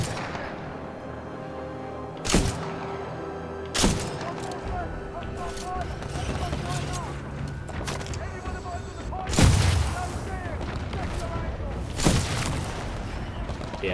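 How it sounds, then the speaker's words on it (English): Gunfire from an enemy turret in Titanfall 2, with several sharp loud shots spaced irregularly over a constant busy background of game noise and a talking voice. "see the turret shooting at us?"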